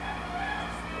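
A rooster crows with a drawn-out, harmonic call in Oslob, the Philippines. It comes through steadily for about a second over a low background hum, with no talking.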